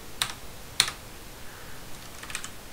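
A few sharp key clicks on a computer keyboard while working in Sabayon Linux, sparse isolated taps followed by a quieter cluster near the end, close and clear with no voices.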